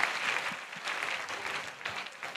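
A congregation at a church prayer and intercession service claps together as an offering of praise, a dense, continuous wash of applause from many people that holds steady for the whole stretch.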